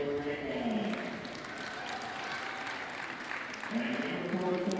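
Crowd noise at a girls' high school basketball game between the Snowflake Lobos and Holbrook Roadrunners, a steady murmur of applause and cheering filling the gym, with voices faintly audible through the din.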